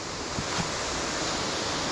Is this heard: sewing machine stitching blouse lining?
no